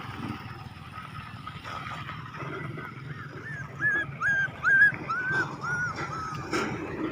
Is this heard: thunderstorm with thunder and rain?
no